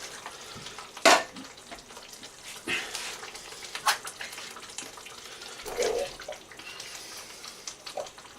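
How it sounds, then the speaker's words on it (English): Drained chickpeas tipped into a frying pan of sauce for chana masala, a splashy wet hiss and sputter with a sharp clatter at the start and scattered bubbling bursts, moderately close. "I've drained my chickpeas and they can go in"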